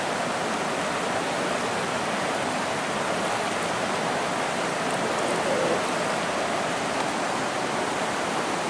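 An overflowing, muddy riverside river rushing past in a steady, dense broadband roar, close and continuous with no pauses.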